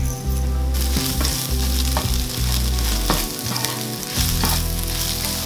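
Eggs being stir-fried with a spatula in a pan for homestyle fried noodles, a steady loud sizzle broken by scraping and tapping strokes of the spatula, close up with no talking.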